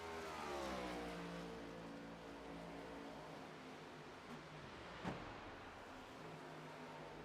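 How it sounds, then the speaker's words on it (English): A race car engine in a racing video game at Charlotte drones steadily, with pitch sweeps as the driver clutches through the turns and a brief sharp click near the end, heard alone without talk. "You can hear in the car he is clutching in the turns."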